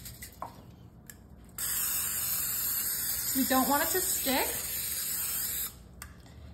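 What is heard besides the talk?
spraying Pam cooking spray onto a sheet pan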